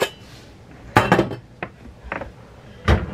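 A stainless steel egg poacher being washed gives several sharp metallic clanks and clinks, close and irregular, with quiet gaps between the knocks.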